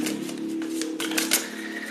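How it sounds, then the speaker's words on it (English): A deck of cards being shuffled, with a run of quick, papery riffling clicks over a steady low hum, fairly close and continuous, without talk. "I'm shuffling this deck"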